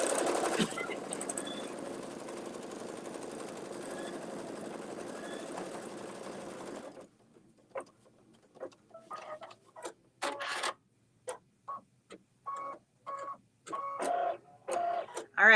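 Embroidery machine stitching a white placement line, a steady fast mechanical whirr for several seconds close by, then stopping and giving way to scattered clicks and knocks.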